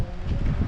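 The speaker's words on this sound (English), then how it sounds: "we got some gusts of wind coming in" Gusty wind buffets an outdoor microphone on a stormy day at a rope-climbing setup, a steady low rumble of rushing air that swells and dips briefly with no voices.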